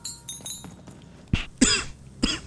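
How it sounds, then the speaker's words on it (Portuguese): Three sharp coughs from one person, close by, in quick succession after a stretch of faint rustling and quiet movement. "Vou tossir de vez em quando"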